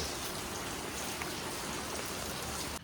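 Rain falls in a steady, dense patter for several seconds, even and moderately loud throughout, then drops off slightly at the very end.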